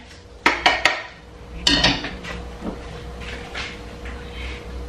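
A metal cooking pan clanks and scrapes as it is handled, with a few sharp close knocks early and a second rattling cluster, then fading into low room noise.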